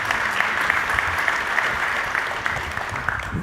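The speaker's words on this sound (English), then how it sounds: "And by the way, just clap." Audience applause during a public affairs talk on foreign policy, a steady wash of many hands clapping throughout, fairly dense and even with no voices over it.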